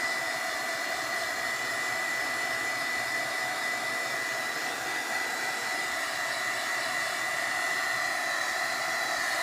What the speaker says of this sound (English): I am using my heat gun to dry this this glue for the foil